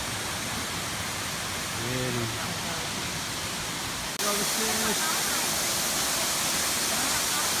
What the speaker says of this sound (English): And here is the second waterfall.